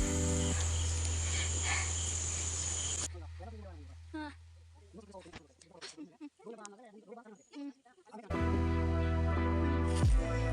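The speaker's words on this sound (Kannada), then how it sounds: "ಸೊಳ್ಳೆ ನೋಡಿ ಕರ್ಸುತ್ತಾ ಇದೆ." Mosquitoes buzz in a farm garden as a steady, shrill insect drone, loud at the start and again near the end. A person talks over a quieter stretch in the middle.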